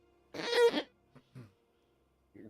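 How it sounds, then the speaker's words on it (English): A single rough, throaty cough bursts out close to the mic, followed by a few small breathy vocal sounds and quiet pauses. "Did you just cough as Atlas?"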